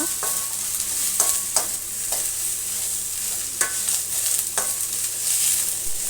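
Chopped raw banana stir-frying in a pan for palya: a steady sizzle broken by repeated sharp scrapes of a spatula at an irregular rhythm.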